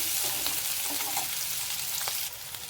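Onions fry in a pan for an Andhra-style bitter gourd dish, a steady loud sizzle with a few stirring scrapes, no talking.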